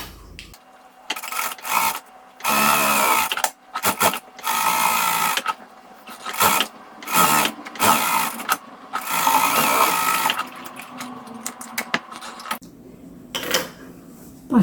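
A sewing machine stitches fabric for crazy-mosaic patchwork in short mechanical bursts separated by pauses, with soft rubbing and fabric handling in between.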